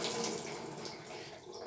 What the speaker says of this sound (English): I'm gonna take now a kitchen towel, and what I will do with this, I will just dampen it